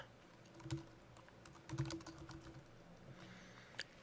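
Computer keyboard being typed on to enter a password hint: soft, faint key clicks in short irregular bursts, with a few louder taps, quiet and close, no talking.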